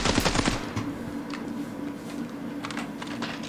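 A Kalashnikov assault rifle fires a short, quick burst in the mobile shooter Standoff 2, followed by faint clicks and light background sounds.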